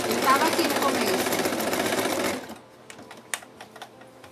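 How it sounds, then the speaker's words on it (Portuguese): A sewing machine rapidly stitches the fabric ears of a small toy for about two seconds, then stops. A few light mechanical clicks and handling sounds follow. "Aqui a gente vai costurar logo as duas orelhinhas."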